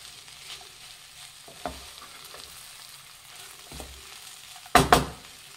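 Lemon avalakki, flattened rice mixed with fresh grated coconut, stirred in a pan over a faint background sizzle, with a few soft spoon scrapes and a louder clatter near the end, no talking.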